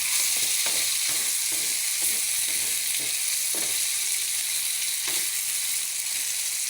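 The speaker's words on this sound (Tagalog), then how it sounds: "haluin na hanggang kumatas pa itong ating uh, chicken" Chicken wings sizzle in hot oil in a pan, with a steady loud frying hiss and occasional scraping knocks as they are stirred.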